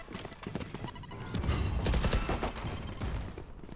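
Gunfire and combat noise in Valorant during a high school esports semifinal match, dense overlapping shots and impacts building to a loud cluster in the middle, busy and continuous.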